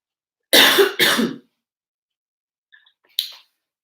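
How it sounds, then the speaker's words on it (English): Two sharp, close coughs in quick succession from one person, followed by a silence, a faint small sound and one shorter throat-clearing burst. "I'm going to have to cough, guys."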